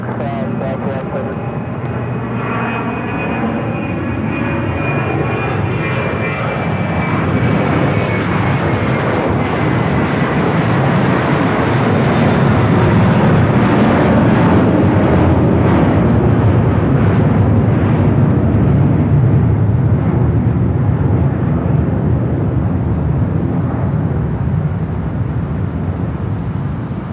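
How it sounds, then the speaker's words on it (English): An Airbus A321 jet roars at LAX, its engine noise swelling from a whine into a loud, sustained rumble that fills the air for nearly half a minute, with a voice talking briefly at the start. "Some of these A321s are louder than anything else."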